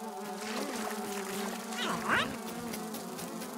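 Flies in the Grounded video game buzzing steadily, a droning insect hum with shifting pitch that swells briefly as one seems to pass close by, then settles back to a constant buzz.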